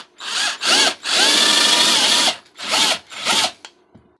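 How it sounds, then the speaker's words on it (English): Nut driver backing out painted-over screws from a mobile home window frame, several close, loud whirring bursts of a power driver, one long run in the middle and a faint tap at the end. "I ended up using a nut driver just due to the simple fact, whoever did this window before painted over everything."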